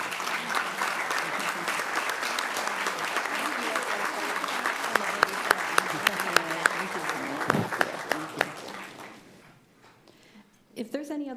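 A city council audience applauds a Purple Heart Day proclamation in Chula Vista, steady clapping with a few sharper close claps near the end before it fades to quiet, then a brief rustle.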